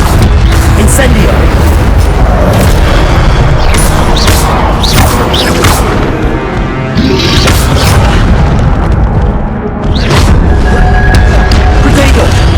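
The Incendio fire spell in Hogwarts Legacy goes off with loud, booming bursts of fiery crackle amid dense, continuous combat effects. Heavy and close, it stays sustained across the whole stretch, with a spoken voice over it.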